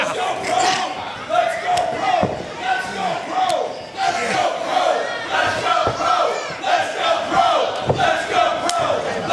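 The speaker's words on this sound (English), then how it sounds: "This crowd coming alive for Rhett Titus, chanting "Let's go, pro" for the Professional." A wrestling arena crowd chants loudly and steadily in a rhythmic "let's go" pattern during a live pro wrestling match, with cheering throughout and a few slams and thuds cutting through.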